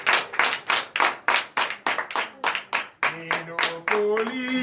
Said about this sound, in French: que je vous demande encore d'applaudir très fort.